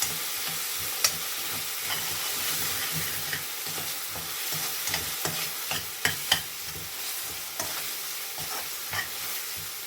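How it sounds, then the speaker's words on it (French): Frying chilli prawn sauce sizzles steadily in a pan after a splash of water is added to loosen the browned bits, with scattered scraping stirs and clinks from a utensil; no one talks. "je vais mettre quand même un tout petit peu d'eau pour décoller tout ce qu'il y a au fond"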